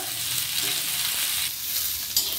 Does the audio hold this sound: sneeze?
no